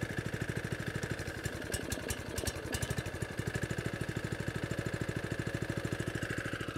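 A Camon LA25 petrol lawn aerator engine runs steadily close by, with a fast, even thumping beat and a constant mechanical drone and no voices.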